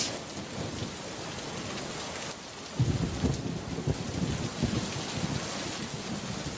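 Heavy rain pours steadily in a cartoon storm scene, and a deep rumble of thunder swells in partway through beneath the constant hiss of rainfall, with no talking.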